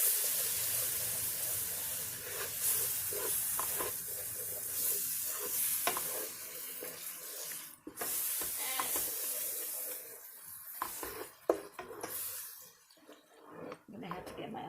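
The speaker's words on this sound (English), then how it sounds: "Now I'm going to slowly add in the milk." Milk poured slowly into sausage gravy in a hot pan, with steady sizzling, bubbling and the scrape of a utensil stirring, loud and close throughout.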